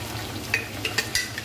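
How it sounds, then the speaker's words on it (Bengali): Ginger garlic paste fries in hot oil for a biryani, giving a soft steady sizzle with a few quick scraping stirs close by. "2 চামচ আদা রসুন, এটাকে একটু লাল করে ভাজা ভাজা করা হবে।"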